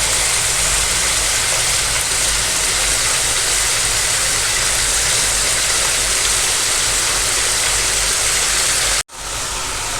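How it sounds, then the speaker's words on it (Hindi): Chicken fries over high heat in a karahi, a dense, steady, loud sizzle that roars without pause for about nine seconds before cutting off abruptly, with no voices. "इसको तकरीबन 5 से 7 मिनट के लिए फ्राई करेंगे तेज़ आंच पे।"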